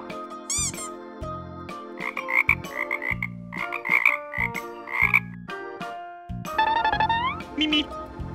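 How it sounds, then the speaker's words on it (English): A toy green frog croaks in a run of short, repeated bursts, clear and close, over a light children's music track with brief cartoon effects before and after. "Green frog."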